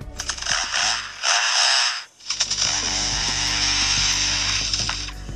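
A lyrebird imitates a chainsaw in a dense, buzzing, crackling run that cuts out for about a second and then resumes. It holds steady and loud to the end with no talk.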